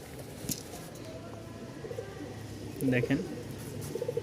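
Giribaj pigeons coo softly in low, rounded bursts, a clearer call near the end, over a quiet hum with someone speaking briefly nearby.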